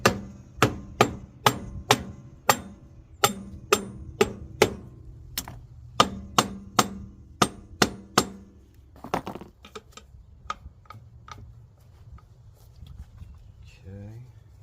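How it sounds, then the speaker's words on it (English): Hammer smacking a stuck clutch part on a Victory Cross Country motorcycle in a home garage to break it loose: a rapid series of sharp metallic clanks, close and crisp, thinning to scattered lighter taps and rattles. "Give it some smacks to break it loose."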